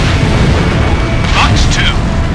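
Missile strike blast on a building in the combat flight game Ace Combat Infinity, a dense rumbling boom that stays loud across the clip over steady engine roar, with brief radio voice chatter partway through.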